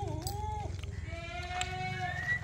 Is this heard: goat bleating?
yes